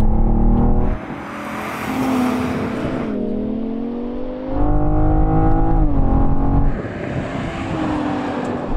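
A BMW M5 V10 Touring and a BMW M440i accelerate hard side by side in a rolling drag race from 50 mph, loud engines rising in pitch with clear gear changes and no talk.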